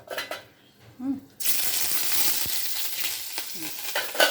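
Crushed whole garlic tipped into hot oil where dried red chillies are frying, bursting into a loud, dense sizzle after a few quiet kitchen sounds, with brief spoon scrapes in the pan.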